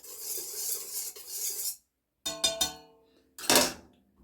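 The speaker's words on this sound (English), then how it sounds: "Then I will add in my sugar, whisk that in until it's well incorporated." A whisk scraping and rattling against a bowl as sugar is beaten into a batter, in short close bursts separated by brief pauses, with no talking.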